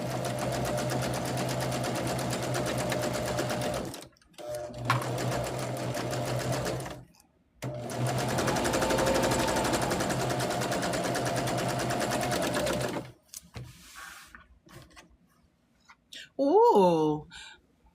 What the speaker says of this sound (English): we can take it to the machine and we're going to do a 1/4 inch.